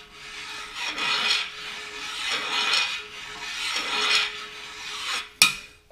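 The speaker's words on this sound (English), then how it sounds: "you can feel the file drag as it's cutting" A metal file rasps across the deck of a Caterpillar D2 engine block in steady, close back-and-forth strokes, about five even passes in a row, ending with a sharp clink.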